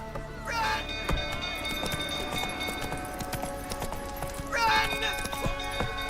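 Horse hoofbeats from The Witcher video game, a steady clip-clop gallop under game music and bursts of voiced dialogue, with a rider urging the horse on.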